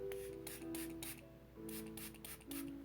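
A spray bottle mists water over dried watercolour paints in a palette, giving about eight quick hissing bursts in a steady rhythm, close and fairly quiet, with a faint tonal hum beneath and no talking.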